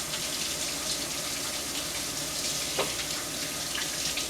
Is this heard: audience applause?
no